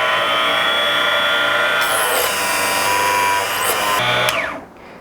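A Harbor Freight 2-inch benchtop cutoff saw whines at high pitch and bites into wood, loud and close, with the cutting tone shifting as the blade passes through before the motor winds down.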